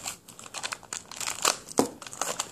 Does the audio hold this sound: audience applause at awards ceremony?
no